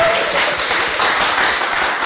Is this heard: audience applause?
yes